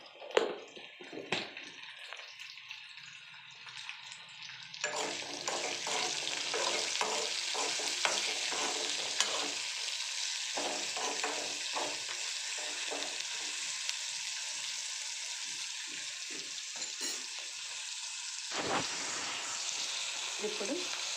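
Green chillies with salt fry in a pan with a bright, continuous sizzle, broken by repeated scraping stirs of a spoon.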